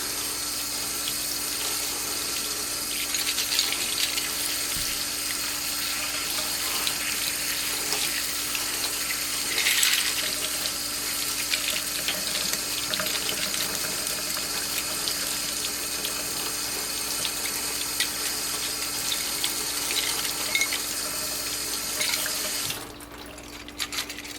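Small cleaned parts from a Singer Model 337 sewing machine are rinsed under a faucet. A steady stream of running water splashes into a sink for a long stretch, close and constant, then briefly drops off near the end, with no talking.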